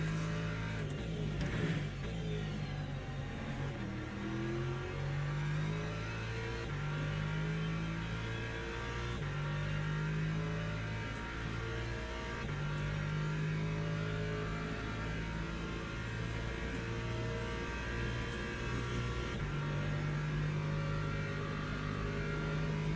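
Hypercar engine in the Le Mans Ultimate racing video game, a steady droning whine with rising and falling pitch as it accelerates and shifts through gears, continuous and moderately loud throughout with no talking.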